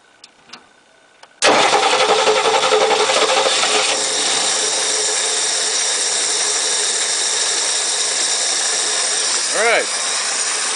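After a few faint knocks, the 1969 Lincoln Continental's engine cranks and catches at once, then settles into a loud, steady running idle close by, with a brief rising whine near the end.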